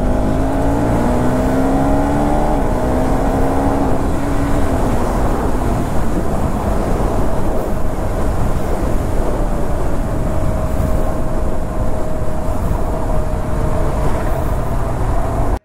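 A car driven fast on the road gives a steady loud roar of engine and wind noise, with rising tones as it accelerates early on.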